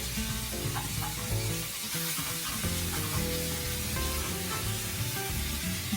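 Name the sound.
garlic sizzling in a pan for Mexican rice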